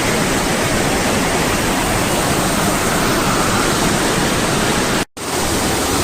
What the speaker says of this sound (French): La rivière c'est du costaud, hein.